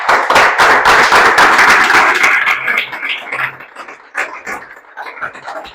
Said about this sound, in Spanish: ¿Qué tal si le damos un aplauso a Él?